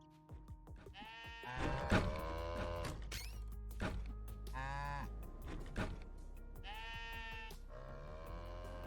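Cows moo repeatedly in long, drawn-out calls with some sheep bleating mixed in, a close, busy chorus of farm animals in the video game Necesse, with no talking.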